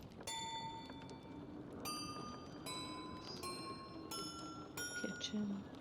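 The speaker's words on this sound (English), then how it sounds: "Let me listen to the chime of the bells." Bells chiming in The Elder Scrolls Online video game, a series of clear, ringing tones at different pitches struck one after another, sounding at moderate volume over a low background murmur.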